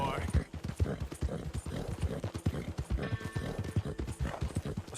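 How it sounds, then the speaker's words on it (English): Hooves clip-clop in a steady rhythm while a horse in Red Dead Redemption II breathes heavily, close and continuous beneath ongoing conversation between players. "This horse sounds like it has asthma."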